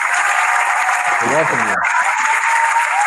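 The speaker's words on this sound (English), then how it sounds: "I think you deserve a virtual round of applause" A recorded applause sound effect plays during an online retail leaders' conversation, a continuous loud wash of clapping throughout. A person speaks briefly over it midway.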